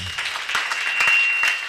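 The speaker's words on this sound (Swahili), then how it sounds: "Pigeni Yesu makofi" A church congregation applauds during a deliverance service, with steady, moderately loud clapping filling the space throughout.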